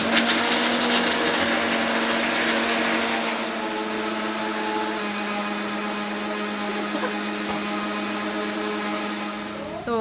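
A kitchen mixer grinder whirs steadily as it grinds coconut with cardamom and poppy seed powder, a loud continuous motor drone that eases slightly after the first few seconds and runs nearly unbroken to the end.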